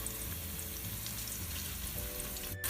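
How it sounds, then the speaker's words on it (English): Ginger garlic paste sauteing in a pan for Sri Lankan crab curry, a soft, even sizzle held low and steady, ending in a brief sharp clatter. "It's been sauteing for about 2 minutes, so I'm going to go ahead and add the ginger garlic paste"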